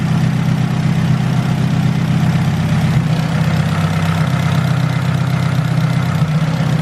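Turbocharged Honda Civic GSR engine in an EF sedan idling close by, a steady, even low rumble with a faint rhythmic pulse and no change in revs, no talking.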